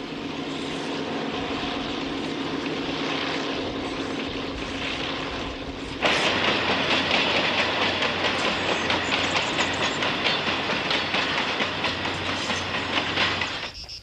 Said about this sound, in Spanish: Un tren venido a menos, pero que todavía transporta arena para las vidrieras de Llodio.